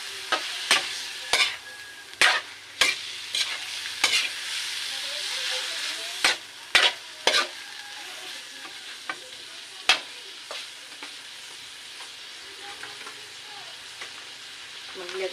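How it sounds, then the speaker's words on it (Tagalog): Pork chunks sautéing in a hot pan for pork mechado, a steady sizzle and hiss with frequent sharp scraping and stirring strokes of a utensil against the pan, close and fairly loud with no talk. "sinalo ko na ang laman para maigisa-gisa siya."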